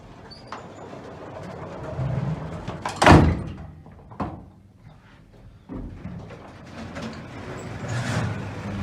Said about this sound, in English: Manual sliding door.